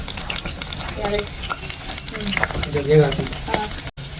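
Chopped onion frying with cumin in hot oil for a chicken curry, a steady close sizzle with stirring scrapes throughout and a brief dropout near the end.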